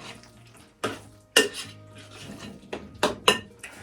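Dishes for serving spinach dip clink and clatter on a counter in several sharp, separate knocks spread across a quiet kitchen.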